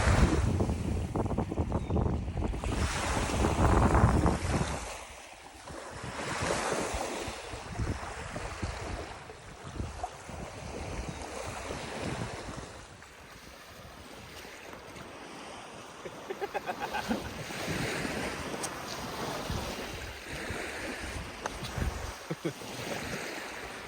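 Wind gusts and breaking waves wash over the microphone on a beach at Rondeau Park, a broad roaring rush that swells and eases, loud and close, with no voices.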